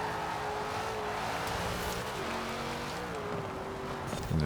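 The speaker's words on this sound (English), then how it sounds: "And hover that gas pedal again. Just keep the rev up." Race car engine in Forza Horizon 4 held at high revs, a steady droning whine with slight pitch shifts, continuous and close.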